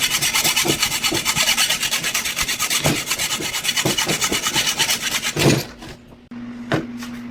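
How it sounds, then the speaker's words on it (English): Steady back-and-forth rasping of a hacksaw cutting the handles off small screwdrivers, continuous rhythmic strokes close up for about five seconds, then a brief pause and a few lighter scrapes. "For these pieces, I'll use 2 small screwdrivers and cut off the handles with a hacksaw."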